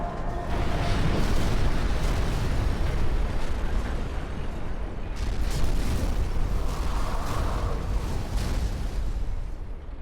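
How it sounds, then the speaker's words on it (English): A large explosion in Sniper Elite 3 after a valve is shot, a long rumbling roar with bursts and debris that stays loud and near for the whole stretch. "That's how you blow these up. Is you shoot the valve."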